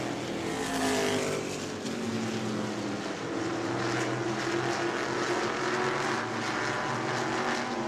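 Stock race cars roar around the oval during a New Smyrna weekly racing event, a continuous loud engine drone with rising and falling pitch as cars pass, steady for several seconds with no talk heard.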